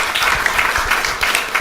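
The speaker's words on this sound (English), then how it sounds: "Give a round of applause." An audience applauds after a minister's speech at an event in Australia, brief dense clapping from many hands in a hall, steady and moderately loud throughout.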